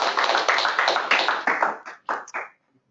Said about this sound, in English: let's give a round of applause for Jeff to get his presentation started.